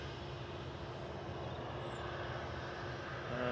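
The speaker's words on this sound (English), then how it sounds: "So we've got a couple of aircraft just taxiing across 23 right now." Jet airliners such as an EasyJet taxi across a runway at Manchester Airport, a steady distant engine drone and rumble that swells slightly near the end, with no talking.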